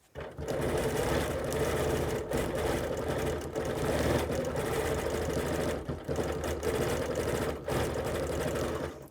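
A sewing machine stitches words onto a small quilt with a loud, steady mechanical whir that runs continuously, broken by a few brief pauses and stops.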